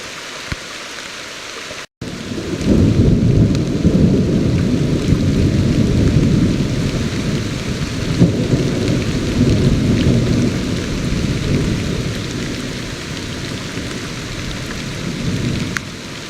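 A heavy thunderstorm during a bass fishing trip, heard from a sheltered spot: after a brief cut, steady loud rain pours down on surfaces alongside deep rolling thunder, continuous and enveloping, with no one speaking.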